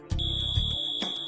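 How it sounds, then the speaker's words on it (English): A fire suppression system's alarm gives off a sharp, steady electronic tone from close by, with a brief low buzzing pulse under its start. "A first alarm is sounded."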